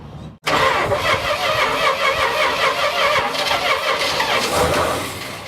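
A 1973 Dodge camper truck's engine cranks briefly and catches, then settles into a loud, steady, rough-edged running rumble close by, with no one speaking over it.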